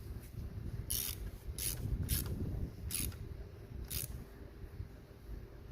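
The negative cable clamp on a Kia Forte car battery is tightened with a ratchet, giving a few quiet, irregular clicks over a low steady background hum, with no talking.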